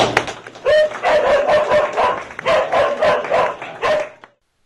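Several dogs barking in a prison dog-training program setting, loud repeated barks in rapid bursts across the clip with a noisy, reverberant background, stopping abruptly near the end.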